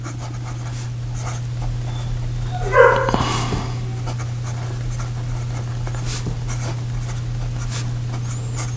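A Visconti Homo Sapiens Midnight in Florence fountain pen nib writes on paper with a faint, continuous scratchy glide under a steady low electrical hum. A short higher-pitched sound rises briefly midway, and no one speaks.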